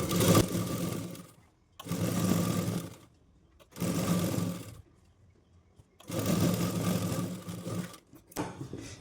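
An electric sewing machine stitches the seams of a six-piece petticoat in four long whirring runs, each lasting about a second and a half, with short silent pauses between them. The machine is close and loud.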